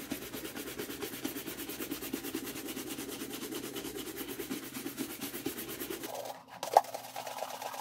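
Polish is buffed on an Allen Edmonds shoe: a faint, steady brushing rub with even rhythmic strokes, quiet and close, then a brief knock near the end.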